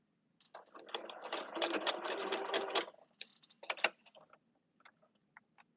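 A sewing machine stitching a levy runs in a dense, steady burst for about two and a half seconds, then gives a few short stitching bursts and scattered light clicks near the mic.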